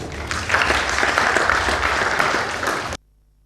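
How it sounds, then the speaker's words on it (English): Loud audience applause at a school competition grand finale, dense clapping that swells in within half a second, holds steady, then cuts off abruptly at about three seconds. "A round of applause for her again."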